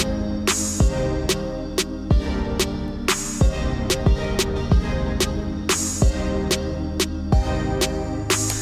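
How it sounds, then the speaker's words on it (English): Programmed hip-hop drum beat, with a clap and an open hi-hat striking together over kick and bass, repeating in a steady bouncing pattern, loud and close with no talking. "we added a clap and an open hat that play at the exact same time, just to kind of add some more bounce"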